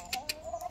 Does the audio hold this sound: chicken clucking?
yes